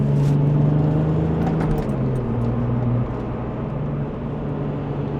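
A Porsche 996 Turbo engine drones steadily on a Black Forest road, its low rumble shifting pitch as the car cruises, loud and close throughout without talk.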